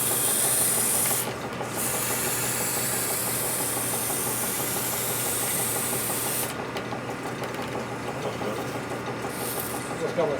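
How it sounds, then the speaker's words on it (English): Continuous rasping of sanding on concrete runs steadily and fairly close, with a constant low hum underneath and brief dips in the scraping. "A lot of sanding going on there."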